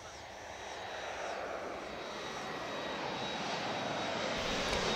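Fixed-wing airplane engine roaring steadily at an outdoor park beside an airport as a plane takes off or lands, a broad loud rumble building slightly over time, with faint voices of a crowd in the background.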